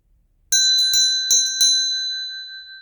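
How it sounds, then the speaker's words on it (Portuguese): A bright bell rings four times in quick succession, each strike ringing out clearly before fading into a lingering tone. "Aciona o sininho das notificações"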